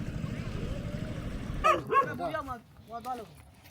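A dog near a boat on a river in Myanmar gives short yelps and whimpers, close and fairly loud, after a stretch of low engine or water rumble.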